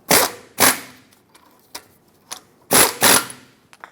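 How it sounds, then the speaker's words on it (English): Ratchet with a 15mm socket tightening the tie rod sleeve clamp nuts on a 2003-2009 Dodge Ram 2500, a few sharp clicking bursts in quick pairs separated by quieter ticks, close and loud with no talking. "tighten up the mounting nuts that hold the clamps on for the sleeve. 15mm socket for these."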